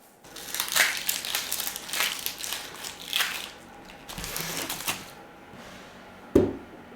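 Onions being peeled by hand from a one-kilo bowl, close papery crackling and crinkling of dry skins in uneven bursts, with a sharper snap near the end.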